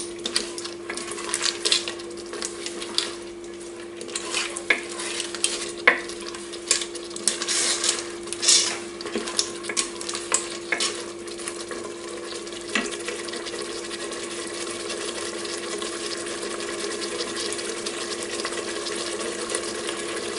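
Fried tomato sofrito is stirred in a pot for a fish rice dish, giving a low, steady sizzle broken by scraping and clinking of a utensil against the pot, busier early on and calmer later.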